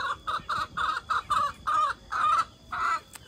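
Chickens of a new homestead flock clucking close by in a quick series of short, bright calls, some run together into longer squawks, with no talk over them.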